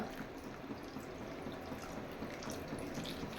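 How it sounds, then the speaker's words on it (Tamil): Water running steadily into a pot of crab curry, a continuous soft splashing pour that holds at an even level throughout, close by and alone. "இதுக்கு மேலாப்பில் கொஞ்சம் போல் தண்ணி விட்டுக்கிறேன், நண்டு வந்து வேகிற அளவுக்கு."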